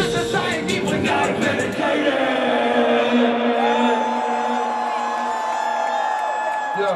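A large concert crowd at a Grey Day Tour show in Chula Vista cheers and whoops loudly, sustained shouts and long held yells filling the space from start to finish.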